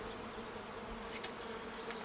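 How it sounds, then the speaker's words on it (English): Honeybees in a nuc hive during a spring inspection give off a steady, close, even buzz, quiet and continuous with no voices. "There are bees working up in the top box."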